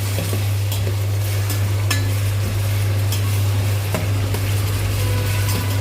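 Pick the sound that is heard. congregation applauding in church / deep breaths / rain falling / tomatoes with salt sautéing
tomatoes with salt sautéing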